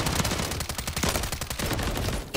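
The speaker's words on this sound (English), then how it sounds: "This guy's shooting us." Rapid automatic gunfire in the shooter game Modern Warfare 3: a dense, continuous burst of sharp cracks lasting the whole two seconds, loud and close.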